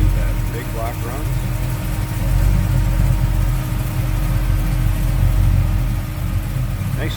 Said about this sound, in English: You can see how smooth that big block runs.